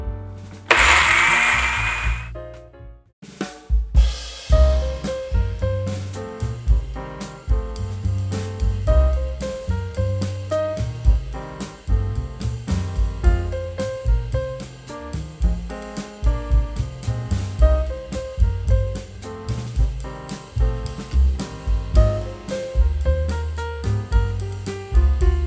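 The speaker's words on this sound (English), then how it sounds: "So I have everything in the blender. I'm just going to put a cover on that and then give it a blend" A blender whirs through a 1940s-style guacamole veggie dip: a brief start, a short pause, then a loud, continuous motor roar that grinds steadily for over twenty seconds.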